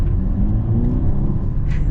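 A 2024 Mercedes GLE 450e plug-in hybrid SUV with a four-cylinder engine and nine-speed gearbox accelerates, a loud, steady low-pitched engine drone and rumble heard from inside the cabin, with no talk.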